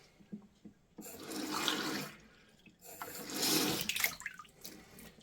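Tap water gushes through a Philips AWP3704 on-tap filter in two bursts separated by a brief pause, close by and fairly loud, with no voices.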